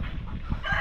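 Chickens on a small farm cluck briefly, a few short close calls over low background noise.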